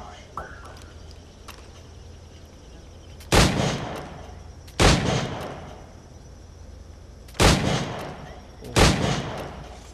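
Four loud, sharp gunshots fired at targets in the Assassin's Creed IV: Black Flag video game, evenly spaced about a second and a half apart, over a quiet background.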